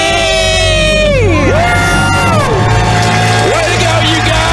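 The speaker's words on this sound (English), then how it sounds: "Let's hear a debt-free scream." A family lets out a loud, sustained debt-free scream together, several voices whooping and shrieking at once with rising and falling pitch, close and filling the whole moment.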